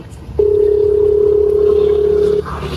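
A steady, loud telephone tone sounds on a phone call in a Gujarati comedy sketch, starting abruptly and holding unbroken for about two seconds before cutting off, with no voices over it.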